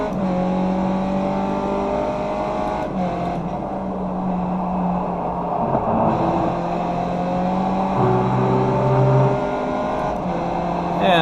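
Race car engine in the iRacing sim at Circuit Park Zandvoort, revving and accelerating continuously with rising harmonic engine tones through gear changes, loud and close, with no one speaking.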